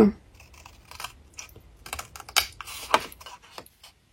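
Scissors snip through folded paper while a paper Easter bunny chocolate box is cut out, with a series of short, crisp, close cuts separated by brief pauses.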